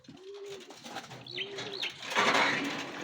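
Racing pigeons arriving at their loft after a derby race, giving soft low coos in short repeated phrases, close by, along with some flapping and rustling.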